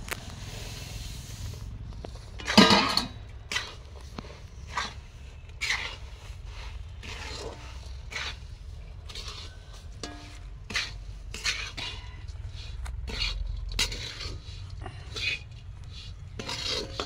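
Fried flattened rice is stirred into melted jaggery in a pan, producing repeated scraping and rubbing strokes with a few louder clanks, close and moderately quiet.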